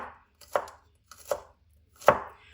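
A knife chops green onions finely on a board in three crisp, separate strokes spaced evenly apart, close and fairly loud, with no voices.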